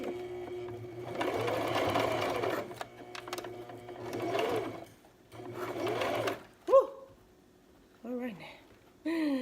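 A sewing machine stitching a wig runs in three fast whirring bursts, loud and close, separated by brief pauses, with a person speaking and exclaiming nervously in the quieter gaps near the end.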